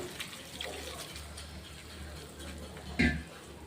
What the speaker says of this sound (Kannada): ಇಲ್ಲ ಈ ಥರ ಮೇಲ್ಗಡೆ ನೀರು ಹಾಕ್ಬಿಟ್ಟು